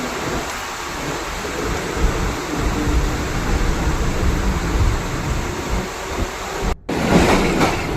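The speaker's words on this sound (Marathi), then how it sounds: "ट्रेन सुरू झाली आहे" Mumbai local train under way, a continuous loud rumbling roar of carriages on the rails heard from inside, with a brief dropout near the end.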